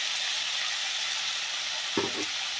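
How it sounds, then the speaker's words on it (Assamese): Potatoes frying in a pan with a steady close hiss and sizzle throughout, plus a brief scrape and bump of a utensil stirring them near the end, no talking. "আলুটো দি অকণমান এনেকৈ লৰাই দিব"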